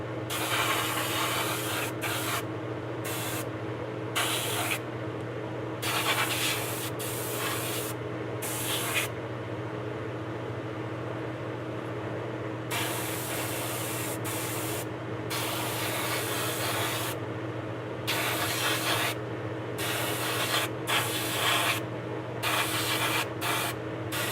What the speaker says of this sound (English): Then after I spray the inside